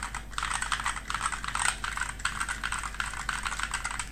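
Fast, steady typing on a Rexus MX5.2 mechanical keyboard, a dense run of crisp close key clacks with no talking, over a constant low hum.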